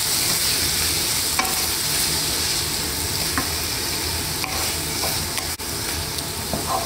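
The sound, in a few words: onions frying in oil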